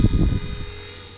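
A small RC Era C138 Bell 206 toy RC helicopter flies in a backyard, its rotor giving a steady, loud electric whine and buzz close by.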